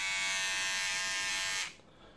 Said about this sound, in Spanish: Esto nos va a afeitar la barba.